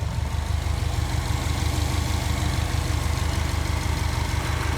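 A swapped Subaru EJ255 engine in a Forester SH9 idles at its first start with a steady, fast, low rumbling pulse, close and continuous with no voices.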